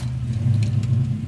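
A muscle car engine labours in second gear while towing a trailer, a loud, low, steady rumble with a slight uneven throb, close by and with no talk.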